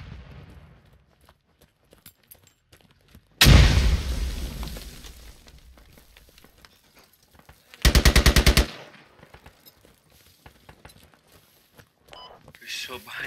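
Gunfire in the Squad military shooter game: quiet scattered clicks, then a loud booming burst of shots and a sharp rapid automatic volley, with faint voices over team chat.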